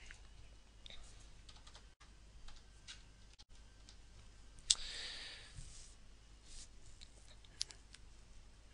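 Login credentials being entered on a computer keyboard: quiet, close key taps in irregular bursts with a few brief pauses, soft and unaccompanied by speech.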